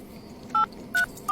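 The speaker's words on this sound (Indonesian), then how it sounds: "aku telepon anak-anakku yang lain aja" Telephone keypad dialing during a home phone call: three short, loud dual-tone beeps, clean and evenly spaced, over a faint room hiss with no talking.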